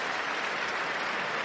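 A stadium crowd at a Broncos–Raiders NFL game gives an ovation as an injured player is carted off, a dense, steady wash of applause throughout.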